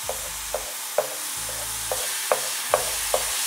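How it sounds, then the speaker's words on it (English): Kimchi fried rice sizzles steadily in a frying pan while a utensil stirs and pushes it aside, with repeated scraping taps on the pan and low thumps from the burner. "move the kimchi fried rice to the edge of the pan to make an empty space for the eggs"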